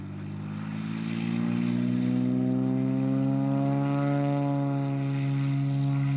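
A small propeller floatplane on a fly-in fishing trip to the Middle Fork Flathead River in Montana drones steadily and loudly, its engine tone swelling as it passes close overhead and holding strong throughout.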